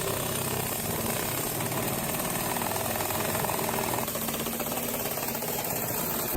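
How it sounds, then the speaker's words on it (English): An air jackhammer pounds in a rapid, continuous clatter with dense, harsh percussive texture, steady in loudness throughout and heard fairly close. "Check out the air jackhammer in action"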